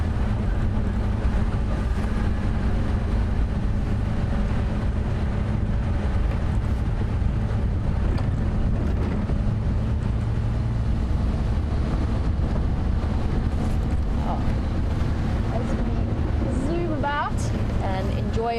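Safari vehicle driving through the bush, a steady low engine drone and rumble with wind buffeting the microphone throughout, while someone talks over it.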